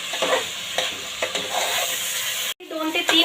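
Onion-tomato masala for a masoor dal pulao sizzles steadily in a pan while a spoon stirs it in rhythmic scrapes, close and loud. A brief silent cut comes near the end, then the frying resumes.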